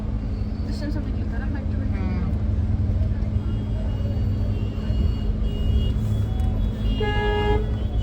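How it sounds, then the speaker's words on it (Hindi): Busy Delhi street traffic rumbles along, with a steady vehicle drone and several short car horn toots, one clearer honk near the end, under a person talking. "ये है दिल्ली में ट्रैफिक"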